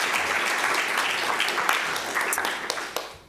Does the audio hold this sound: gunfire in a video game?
no